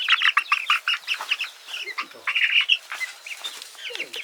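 Chickens in a coop, including feather-footed birds, cluck and squawk in a busy, overlapping chorus of short calls, close and lively.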